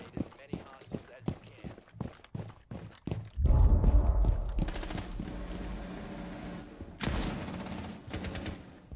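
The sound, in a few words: AK rifle gunfire in video game Rainbow Six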